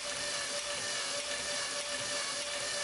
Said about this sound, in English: I've attached a power drill to the drive shaft